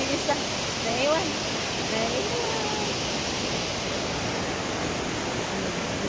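A waterfall at an outdoor sculpture site in Norway gives a steady broadband rush of falling water that stays even throughout, with faint voices mixed in beneath the roar.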